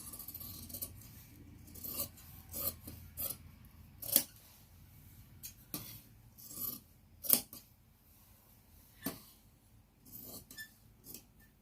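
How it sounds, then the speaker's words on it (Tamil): Scissors cut through blouse fabric in a series of close, crisp snips with quiet pauses between them, against a faint low background hum; no talk. "இப்போ பின்துண்டு முடிஞ்சு அதை கட் பண்ணி எடுத்துக்கலாம்"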